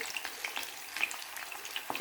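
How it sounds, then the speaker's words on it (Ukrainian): Oil sizzles and crackles steadily close by as cutlets fry on a stovetop, with scattered sharp pops and spits over the frying hiss. "Так що смажу на олії, на плиті."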